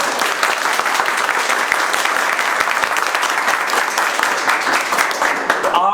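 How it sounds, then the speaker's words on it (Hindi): Students in a room clap loudly together, a thick, continuous burst of many hands that holds steady throughout and thins slightly near the end. "एमडी साइड में जोरदार ताली बजा दीजिए।"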